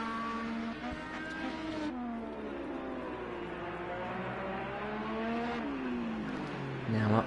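IndyCar race car engine from Project IndyCar at the Californian GP, sweeping flat-out through an S section; a steady high-pitched engine wail with shifting pitch runs throughout, loud and continuous, with a rising surge near the end.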